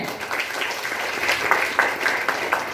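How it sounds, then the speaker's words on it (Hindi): Audience applause at a morning gathering, a moderate wash of clapping with scattered sharper claps standing out, heard from a short distance. "आप लोग का एक नहीं है तो जोरदार तालियां होनी चाहिए।"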